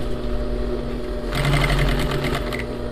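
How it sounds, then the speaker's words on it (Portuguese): Sewing machine stitching a flared skirt in a tricky fabric, a low steady hum that speeds up into a brisker, louder run of rapid stitching partway through. "Vou costurando e arrumando."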